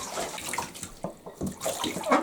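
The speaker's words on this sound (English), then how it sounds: "I brought back 2 of the ducks because they are rather muddy and they're in the bath and having a wonderful time." Two muddy ducks splash about in bath water inside a home, giving quick, irregular bursts of sloshing and dripping at close range.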